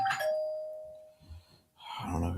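Doorbell chime heard faintly in a home during a talk about the Pittsburgh Steelers, a two-tone ding-dong starting the moment, then a short pause before louder voices talk over a murmur.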